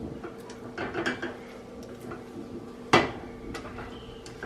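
A spoon stirs a two-ingredient chocolate fudge mixture in a pot over low heat on a stovetop, making scattered soft scrapes and clinks with one sharp knock against the pot.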